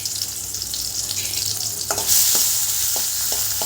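Tomato and tamarind sizzling in hot oil while a spoon stirs the pan for a chutney, a soft steady fry broken by a few sharp scraping strokes, the sizzle growing brighter partway through, no talking.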